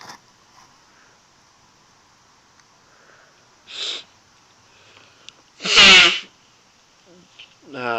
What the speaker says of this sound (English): Sorry, I'm blowing my nose.